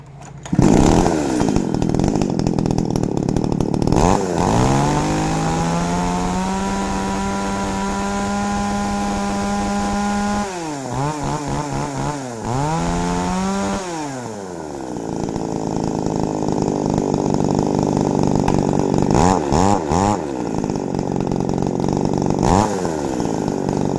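A Makita chainsaw starts, idles and revs up loudly at close range, its engine whining steadily and then surging in several bursts.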